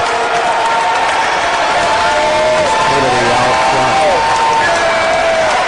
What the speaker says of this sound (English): Crowd cheering this team, recognizing this is their last chance to see them in the regular season action